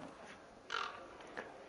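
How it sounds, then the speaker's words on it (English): Crows caw a few times in Dragon Age: Inquisition, two short harsh calls rising over a quiet game ambience, faint and fairly distant. "Well, Liliana's crows"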